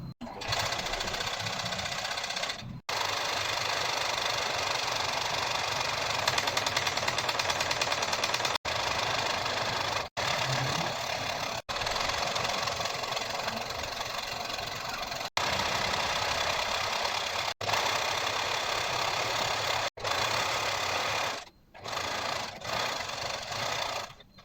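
A sewing machine runs steadily and loudly while stitching the stretch part of a fabric plinth cover, with a few very short pauses and a brief stop and restart near the end.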